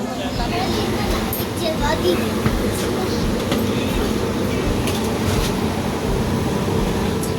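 Inside an Indian train carriage after boarding, a steady loud rumble of the moving coach fills the space, with voices talking over it throughout.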